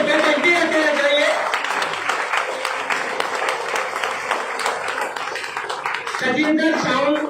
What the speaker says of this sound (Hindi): आपकी तालियों की गड़गड़ाहट बजनी चाहिए, बजती रहना चाहिए